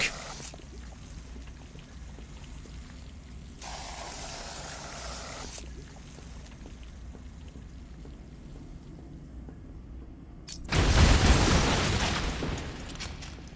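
Explosives detonating in the video game Batman Arkham Asylum: a low ambient rumble with brief noisy swells, then one loud, close blast near the end that roars and slowly decays.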